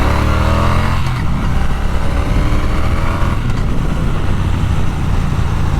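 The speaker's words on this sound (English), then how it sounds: "Okay, time for the sound test on the T120 then." A Triumph T120 twin motorcycle on standard exhaust pipes runs loud and close, its engine note rising through a rev and then holding a steady rumbling drone.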